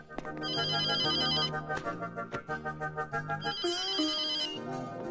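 An electronic phone ringtone plays a repeating melodic pattern in two bursts during a Malayalam comedy film scene, loud and close, with some background music underneath.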